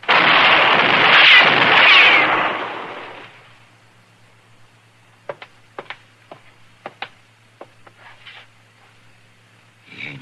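Gunfire in an old-time radio western drama: a loud burst up front, then a scatter of sharp isolated cracks spaced irregularly over quiet hiss, each shot brief and close.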